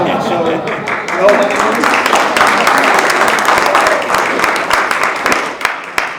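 Audience applause for a newlywed wife at a candidate forum, steady and dense for several seconds with scattered sharper claps, voices murmuring underneath.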